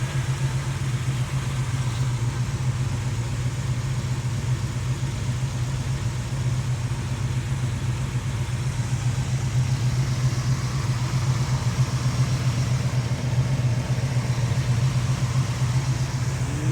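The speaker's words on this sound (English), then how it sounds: "Engine sounds very healthy. See, it does have headers, dual exhaust." A 1969 Camaro restomod's 383 V8 with headers and dual exhaust idles steadily, a low, even burble that stays moderately loud and unchanged throughout with no talk.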